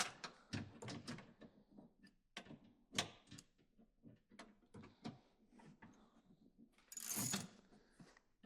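A ratchet tightens the bolts on a Chevy Silverado truck door handle, with close, irregular clicks and metallic clunks and a short louder rattling burst toward the end.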